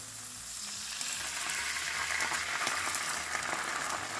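Marinara sauce hits a hot pan of fragrant garlic and sizzles loudly, a dense crackling hiss with small pops that keeps going without pause.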